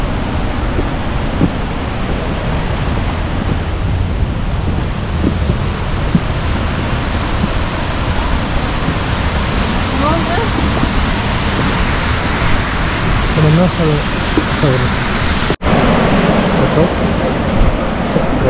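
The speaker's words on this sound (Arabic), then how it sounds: "النهر يمشي كذي" Steady rushing water flowing continuously, loud and close, with someone speaking briefly over it.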